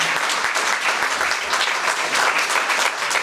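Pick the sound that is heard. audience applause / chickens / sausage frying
audience applause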